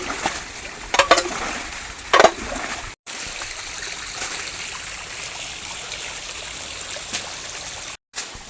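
Small stream flowing across family farmland, a steady broadband wash of running water with a few louder splashes near the start, continuous and close, broken by two brief silent gaps.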